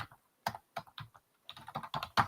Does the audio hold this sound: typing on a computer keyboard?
yes